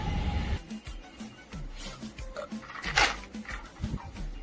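A dog makes close, low whines and panting sounds in short, uneven bursts.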